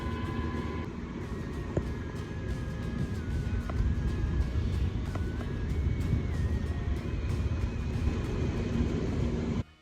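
A sailing boat motoring under engine across a bay between Plymouth and Falmouth on a calm, fine day, giving a steady, continuous droning hum with a faint wavering whine that holds throughout and then cuts off at the very end.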